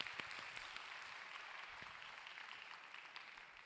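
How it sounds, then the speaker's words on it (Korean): A church congregation claps together as a blessing at a youth Sunday service, a steady, even wash of applause lasting the whole moment with no one speaking. "인사할 때 축복의 박수로 함께 하겠습니다"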